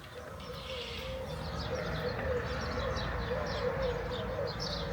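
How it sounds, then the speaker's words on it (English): Birds chirp and twitter in scattered bursts outdoors in Gozo, Malta, fairly faint over a steady low background hum, with no talking. "listening to the birds chirping away out here."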